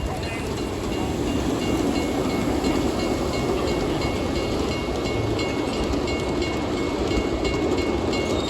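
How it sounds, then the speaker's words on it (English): A miniature train carrying big and little kids passes by at an outdoor park, giving a steady, continuous rumble with faint clickety-clack and hiss that holds at an even loudness for the whole stretch. "Here come some kids on the choo-choo."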